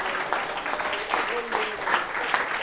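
A church congregation applauds and cheers in praise, with loud, steady clapping and voices rising together throughout.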